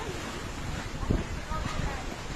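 Sea waves wash at a beach resort in Batangas, a soft continuous rush of surf mixed with wind noise, with one brief louder swell near the middle.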